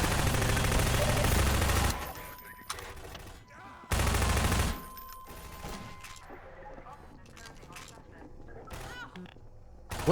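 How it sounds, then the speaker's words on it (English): Sustained bursts of automatic gunfire from allied squad members in Half-Life 2, loud and dense for the first few seconds, then sparser shots and mechanical clatter amid background game noise. "What are you guys shooting?"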